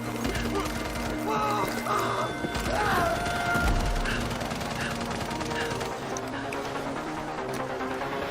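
Gunfire in a video game shown at the PC Gaming Show 2023, with rapid shots and crashes packed under music and shouted orders from game voices, loud and continuous throughout.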